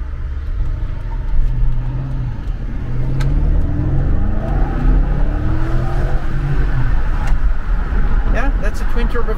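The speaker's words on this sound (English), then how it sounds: "yeah, that's a twin turbo V8. It definitely performs like one" A 2011 BMW X6 50i's twin-turbo V8 rumbles and climbs through rising revs from inside the cabin, loud and steady, with the engine tone sweeping upward as it accelerates.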